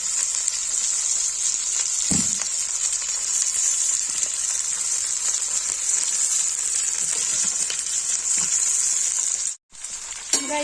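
Lotus stem slices fry in a pan with salt, giving a continuous bright sizzle with a few soft stirring knocks and a short break near the end, no talking.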